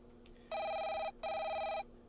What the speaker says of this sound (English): My phone sounds way louder than it usually does.